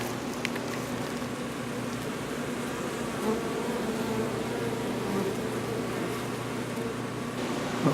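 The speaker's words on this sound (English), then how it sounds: "Decent colony of bees, really young queen." A honey bee colony with a young queen gives a dense, continuous buzzing hum. It is close and steady throughout, with no talk.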